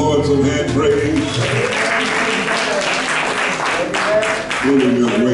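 Congregation clapping during a Sunday service at a Baptist church, a sustained round of applause mixed with voices and cheers throughout.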